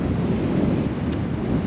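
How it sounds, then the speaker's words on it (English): Wind rushes steadily across an outdoor microphone as a continuous low, dense roar. The wind is loud and close, with no voices or other distinct sounds over it. "It is a little windy, nothing crazy, but it's windy."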